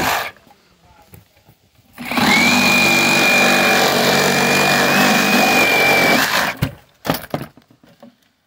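A power saw cuts through deck boards along the nail line while a deck is being demolished. A loud, steady whining drone runs for about four seconds, then stops. Quieter handling noises come before and after.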